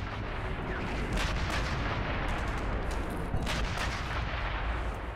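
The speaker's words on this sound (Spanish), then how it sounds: "Y con el sonido del antiaéreo intentaremos liquidar." Anti-aircraft gun in Sniper Elite 2 fires a dense, continuous barrage of loud booming bursts with rumbling low end, sustained throughout without any speech.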